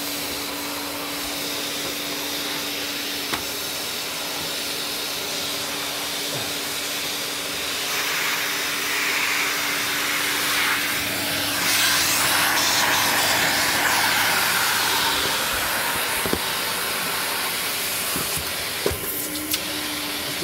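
A vintage 1965 Electrolux ZA65 vacuum cleaner runs continuously with a loud, steady motor whine and airy hiss that shifts slightly as it moves over the floor, with a few light knocks near the end.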